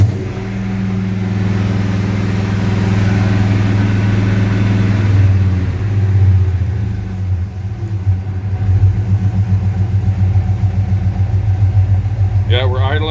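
A 6.1 Hemi V8 swapped into a 1970 Dodge Coronet idles at about 800 RPM, a loud, steady, close-up low rumble that runs throughout; a voice speaks briefly near the end.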